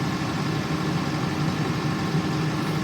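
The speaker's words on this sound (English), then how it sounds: "Really nice little tractor he's got there." New Holland tractor engine idling close by in a steady, even low rumble with a faint rhythmic throb and no break throughout.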